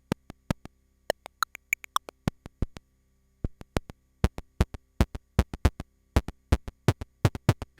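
Short percussive synthesizer hits on a synth with an impact control, sounding as sharp clicky transients, sparse at first and then denser and more regular, with a brief tonal chirp early on and no voices.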